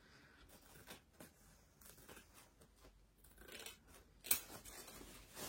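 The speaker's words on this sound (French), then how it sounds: "Pour découper une grande toile comme ça." Small scissors snip through a large embroidery canvas in a series of quiet, close crisp cuts spaced irregularly, with one sharper snip near the end and no talking.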